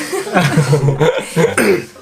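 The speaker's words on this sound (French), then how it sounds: "Attends, j'ai toussé là." A single close cough breaks through, followed by a bit of breathy laughter-like sound, loud and near.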